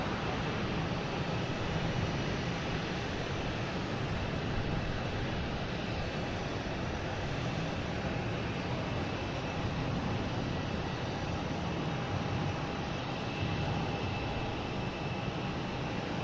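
An airliner takes off at Boston Logan, a continuous, even engine rumble and rush heard alone at moderate loudness for the full length, with a faint steady whine riding on top.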